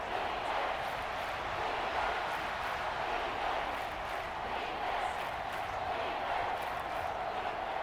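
Stadium crowd at an NFL preseason football game, a steady broad roar of many voices filling the space continuously, with no breaks and only slight swells in volume.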